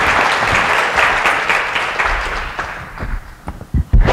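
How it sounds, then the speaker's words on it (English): An audience at a chamber of commerce health and wellness forum in Oklahoma City applauds loudly and steadily, the clapping thinning out into a few scattered claps at the end. "If you all give them a great applause"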